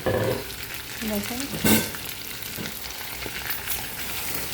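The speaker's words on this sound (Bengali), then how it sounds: "তো দেখুন আমি পেঁয়াজ দিয়ে দিলাম, আর একটু ঢাকনা দিয়ে দিব। এখন একটু নাড়া দিয়ে দিব।" Chicken and onions frying in a pan, stirred with a steady sizzle and scraping, close and continuous; a voice speaks briefly.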